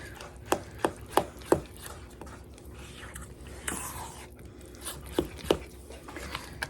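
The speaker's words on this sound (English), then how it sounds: "let's whisk in or mix in our egg yolks" Four egg yolks being mixed in a bowl, a handful of sharp tapping strokes in two quick bursts against the bowl, close up with quiet rustling between.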